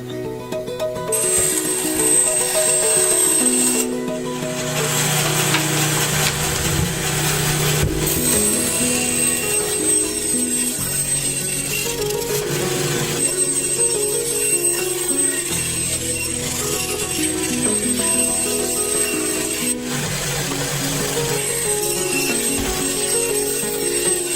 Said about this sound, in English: now it's time to take this to the bandsaw and trim it